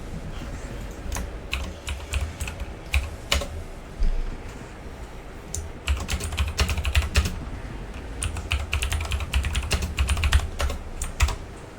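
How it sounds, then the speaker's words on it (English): Messages are typed on a computer keyboard in quick, uneven bursts of crisp key clicks and clacks, close and clear, with short pauses between runs. "I'm just typing a few messages while I'm at this"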